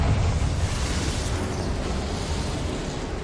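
A Confringo fire spell blast in Hogwarts Legacy, a broad roaring explosion that hits loud and then rumbles on, slowly fading over a few seconds.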